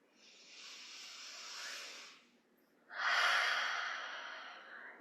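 Two slow, audible breaths come during a guided morning yoga practice, a soft, airy exhale fading out, a short pause, then a fuller inhale that swells and gradually tapers, close and quiet.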